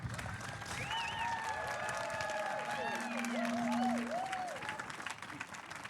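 An outdoor crowd at a Lewisham, London statue unveiling for Ella Roberta Adoo-Kissi-Debrah applauds sculptor Hannah: steady, dense clapping mixed with cheers and whistle-like calls for about six seconds.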